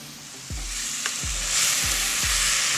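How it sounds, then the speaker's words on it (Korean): Thinly sliced pork belly and bean sprouts stir-fried over high heat, a steady loud sizzle broken by four regular scraping thumps of the spatula tossing the food, with the frying growing slightly louder toward the end. "실시간 10초 정도 볶아준 다음에 바로 불을 꺼줍니다"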